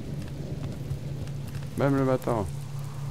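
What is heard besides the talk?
rain falling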